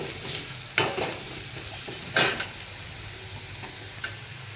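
Smashed idli pieces frying in a pan, a continuous close sizzle broken by several sharp scraping bursts from stirring, no voices.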